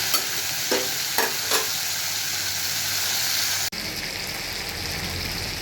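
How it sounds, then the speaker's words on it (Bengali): Lote fish (Bombay duck) fries in a wok, a dense steady sizzle close by, broken early by a few sharp spatters and stirring knocks, with the hiss continuing at a slightly different tone after a brief cut. "মাছটা অনেকটা ভাজা হয়ে গেছে আরও একটু ভাজতে হবে"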